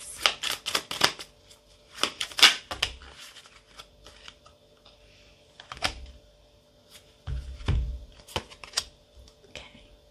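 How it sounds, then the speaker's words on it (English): Tarot cards shuffled and pulled from the deck, a quick burst of crisp riffling slaps followed by sparser single flicks and soft taps as cards are laid down. "Let's pull a few more cards."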